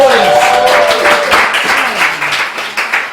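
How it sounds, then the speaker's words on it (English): Studio audience at a cooking challenge show claps in a brief, loud burst of applause, with voices mixed in over the clapping before it starts to thin out. "A round of applause for the studio audience."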